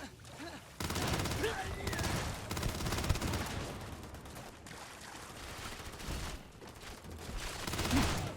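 Heavy gunfire in the video game Starfield comes as sustained bursts and volleys of shots, loud and close, broken by brief lulls, with faint voices now and then.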